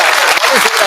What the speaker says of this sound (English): that level of response with whooping and cheering